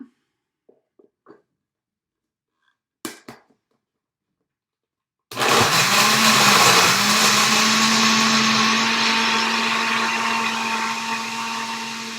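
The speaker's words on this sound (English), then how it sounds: "we're going to put in our cup of ice. Blend this up." A countertop blender crushes ice for a smoothie, starting abruptly after a few soft clicks and then roaring loud and steady for several seconds, its pitch settling as the ice breaks down.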